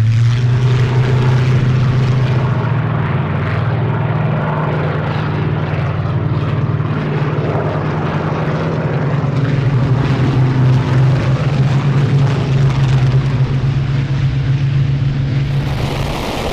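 Warbird aircraft powered by Rolls-Royce Merlin and Griffon piston engines roar steadily and loudly throughout, a deep sustained propeller drone with rising and falling intensity, no voices present.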